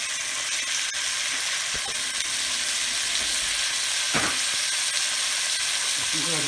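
Chicken pieces fry on a hot stove for chicken cacciatore, a steady close sizzle and spatter running throughout with occasional scraping and pan movements.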